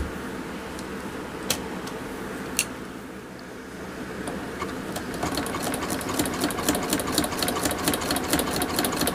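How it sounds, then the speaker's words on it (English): A sewing machine stitches down craft cord for a koozie, trivet or bowl, running in a steady fast whir with rapid needle ticks that grow denser and louder in the second half, near and alone. "Then I'm gonna turn it and sew it right down onto it."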